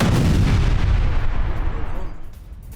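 Heavy explosive blasts from bombardment in Lebanon, a loud continuous rumbling roar that slowly fades over a few seconds, with no voices.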